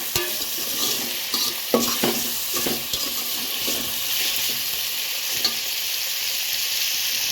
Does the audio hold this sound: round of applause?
no